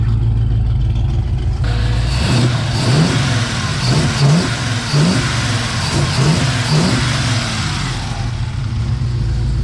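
A Firebird car engine revs repeatedly, about half a dozen quick throttle blips rising and falling over a steady idle, recorded up close.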